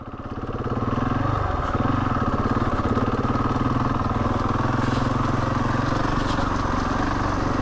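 A motorcycle in riding mode 2 rides along Old Coach Road, a trail. It rises from idle into a loud, close, continuous engine drone that holds steady throughout.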